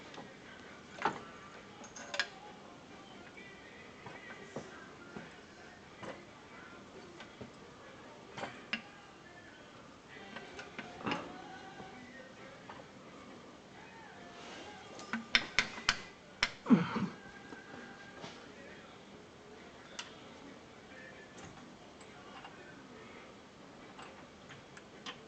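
A ratchet wrench works on C3 Corvette suspension, giving quick runs of light metallic clicks and ticks, close and fairly quiet, with a denser burst of clatter partway through.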